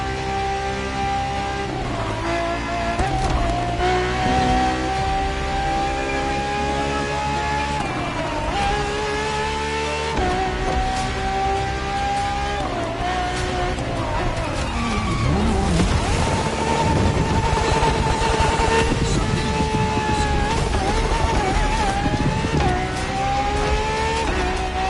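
A Ferrari FXXK track car in a racing game screams through repeated high revs and upshifts, loud and close, with tire squeal and a rougher, busier burst of engine noise and skidding in the second half.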